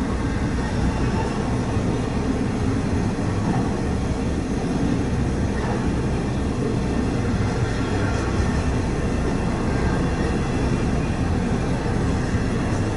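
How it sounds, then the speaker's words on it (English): An eastbound Norfolk Southern stack train rolls past on the main line, a dense, continuous rumble and rattle of wagons at close range, loud and unbroken, with a brief spoken word. "eastbound stacker on Main 2 going over to 1 and then onto the Reading line to head east"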